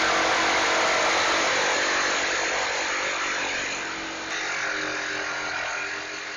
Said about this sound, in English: I cut that to length, traced that pattern, and cut it out with the jigsaw.